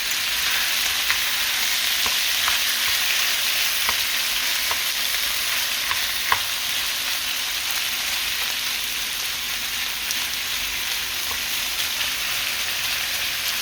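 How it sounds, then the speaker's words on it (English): Seasoned beef for a beef and vegetable stir fry frying in a hot pan, a steady loud sizzle with faint crackles and pops throughout, no talking. "start putting our beef that we seasoned. There we go. Let that cook a little bit."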